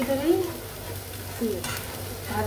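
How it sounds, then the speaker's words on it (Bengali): Spices for a korma fry in a pan with sour yogurt, sizzling steadily while a spoon stirs and scrapes in short bursts, close and fairly clear. "আমার এইটা পছন্দ হয় না, আমি আরও সুন্দর করে ভেজে নেব।"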